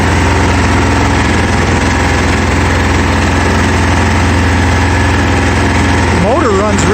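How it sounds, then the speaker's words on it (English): A small engine on a Simplicity 5116 tractor idling at low throttle, a steady loud close drone with wind noise, and a person talking near the end. "Motor runs real sweet. Sounds good."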